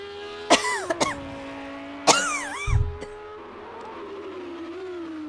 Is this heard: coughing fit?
yes